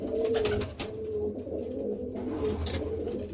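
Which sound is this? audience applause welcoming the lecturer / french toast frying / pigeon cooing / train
pigeon cooing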